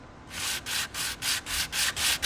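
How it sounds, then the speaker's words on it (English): A wooden knife handle blank is rubbed back and forth on very coarse 30-40 grit sandpaper, giving a steady rhythm of about eight harsh, gritty strokes heard close and alone. "just take the piece of very coarse sandpaper. Again, this is like a 30-40 grit sandpaper"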